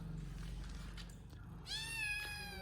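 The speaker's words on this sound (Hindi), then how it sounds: "तब से म्याऊं म्याऊं कर रहा है" A pet cat gives a single drawn-out meow near the end, close and clear, following a stretch of soft low room noise.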